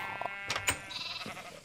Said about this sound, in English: Well, now I got a bunch of sheep in here.